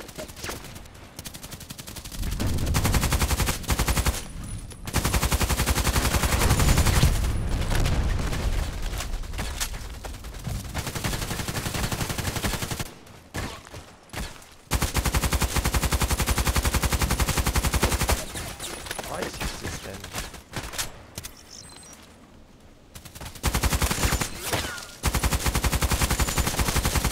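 A SCAR-L assault rifle fires in a video game in sustained, loud automatic bursts, separated by short silent gaps, with the bursts recurring throughout.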